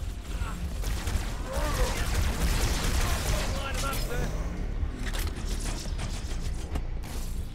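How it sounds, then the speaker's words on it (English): Halo 2 gunfire: rapid, continuous crackling bursts of weapon fire with clattering mechanical rattles, steady and moderately loud throughout, with battle voices mixed in underneath. "Who are you guys shooting at?"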